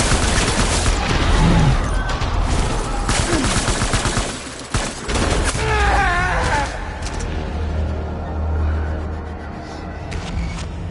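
Loud, dense gunfire from the video game Death Stranding, rapid bursts and scattered shots filling the whole stretch over a rumbling game soundscape, with a brief lull near the middle before the shooting resumes.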